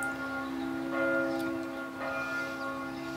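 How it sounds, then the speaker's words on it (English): Church bells ringing from a nearby bell tower on a Wednesday afternoon, a steady sustained metallic tone with repeated strikes that swell and fade, heard alone without speech. "Wednesday afternoon with church bells here again."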